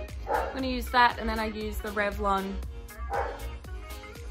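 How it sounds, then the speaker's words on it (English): A small dog yips and whimpers in a string of short, high, wavering cries close by, running underneath someone talking through a makeup tutorial. "That's my dog, I'm so sorry."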